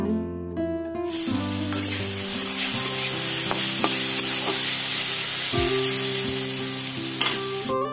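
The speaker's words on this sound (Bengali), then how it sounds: "এই যে পেঁয়াজ ছেড়ে দিলাম আর আলু কাঁচা লঙ্কা দিয়ে আমি ভাত ভেজে নিচ্ছি" Onion, potato and green chilli fry with rice in a wok, giving a steady, loud, close sizzle with stirring scrapes throughout and tonal music running underneath.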